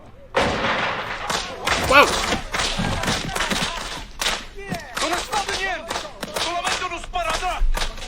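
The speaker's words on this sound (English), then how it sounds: "It's just firecrackers." Firecrackers go off in a rapid, irregular string of sharp loud bangs and pops, close and continuous, while a person exclaims partway through.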